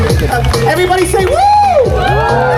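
A crowd at a nighttime street performance shouts a loud, sustained "woo" together, with cheering and whoops rising over a performer's voice.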